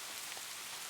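Steady rain falls around a porch, a dense, even hiss of drops on surfaces with no voices, soft and continuous throughout the short stretch.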